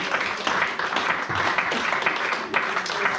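A church congregation bursts into steady, full applause, dense clapping filling the room for several seconds with a few voices mixed in.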